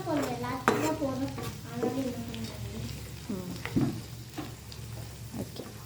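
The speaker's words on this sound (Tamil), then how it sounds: "இப்போ கேப்சிகம் வதங்கட்டும்" Tomatoes and capsicum sauté in a pan for a pasta-style dish, a steady close sizzle with stirring scrapes running throughout, while people talk over it.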